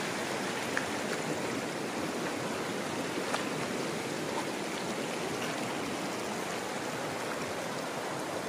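A small river stream rushes in a steady, broadband wash that stays evenly loud and unbroken from start to finish, with nothing else audible over the flow.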